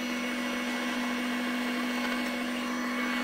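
Blender running at high speed, grinding garlic cloves with a splash of vinegar into a paste: a loud, steady motor whine with a constant hum and churning, continuous and alone throughout.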